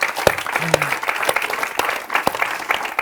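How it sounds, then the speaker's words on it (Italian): An audience breaks into encouraging applause, bursts of clapping rising and falling across the room with a few sharper individual claps standing out and some voices mixed in. "Fategli un applauso di incoraggiamento"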